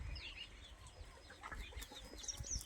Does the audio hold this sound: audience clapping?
no